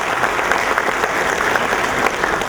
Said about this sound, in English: Please give it a big applause.